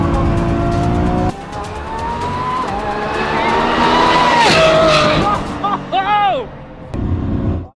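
Lamborghini Revuelto engine rising and falling hard through the last two corners of a track, loud and close, with tire squeal near the end and a voice talking over much of it.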